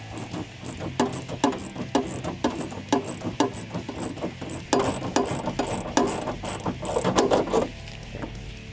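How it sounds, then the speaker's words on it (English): A quarter-inch drive ratchet with a 10 mm deep socket tightens the rear spoiler bolts on a 2015-2022 Mustang Fastback, giving close, rapid rhythmic clicking in repeated back-and-forth strokes with brief pauses and no talking. "10 millimeter deep socket on the quarter inch drive ratchet"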